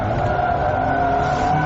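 A BMW E30 M3's 2.3-litre straight-4 engine revving hard on a race track, a steady, loud, sustained engine drone held at high revs from in-car, with no speech.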